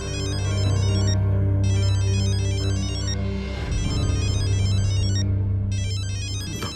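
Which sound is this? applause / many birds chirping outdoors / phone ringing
phone ringing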